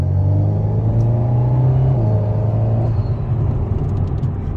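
An Alpine car holds a steady engine rumble at close range on a race circuit, with a shift in pitch midway as it accelerates. The sound is continuous and loud, with no talking over it.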